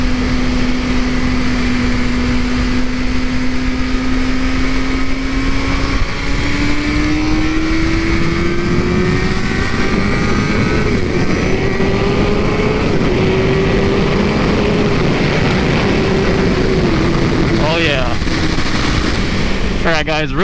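A 2017 Suzuki GSXR 600 motorcycle engine drones steadily while riding through a turn, its pitch rising gradually, with heavy wind rush over the microphone throughout.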